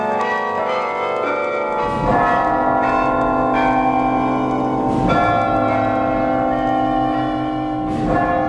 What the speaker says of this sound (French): La tour héberge 48 cloches pour le carillon et un bourdon de 5300 kg.